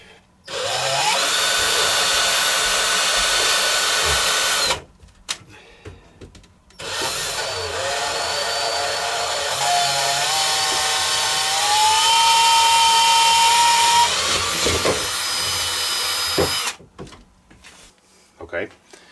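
A handheld power drill bores a pilot hole into an RC boat hull during a gas conversion, whining loudly in long sustained bursts with pauses, its pitch rising and falling as the trigger is worked.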